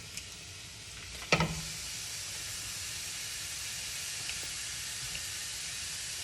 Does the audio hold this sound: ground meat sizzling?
yes